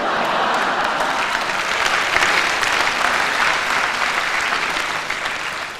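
Live concert audience clapping, a loud, dense, sustained wash of applause from a large crowd that holds steady for several seconds before easing slightly at the end.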